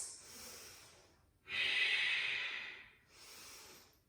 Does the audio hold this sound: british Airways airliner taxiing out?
no